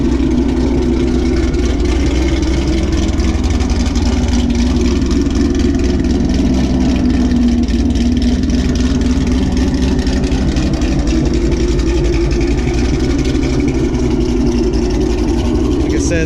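A Ford Mustang S550 fitted with a ProCharger supercharger and a ghost cam runs loud and close, a steady choppy engine drone with a sustained whine and occasional revving, as if recorded over wind noise.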